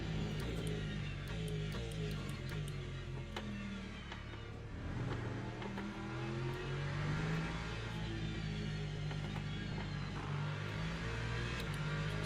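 Race cars in traffic in Le Mans Ultimate at Sebring: several engines rev and drone at once, layered and continuous, with pitch rising and falling as cars jostle nearby.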